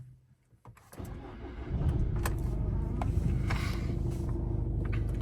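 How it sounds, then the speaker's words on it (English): A 2012 Audi A3 Sportback 2.0 TDI 170bhp diesel cranks briefly and fires up, settling into a steady, close, low rumbling idle with small clicks on top. "I'll just start the car so you can see there's no warnings."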